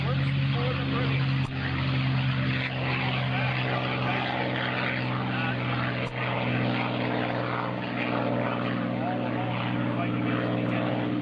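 A P-51D Mustang propeller fighter takes off at a 2005 Joint Services Open House airshow, its loud piston engine roaring steadily and unbroken throughout.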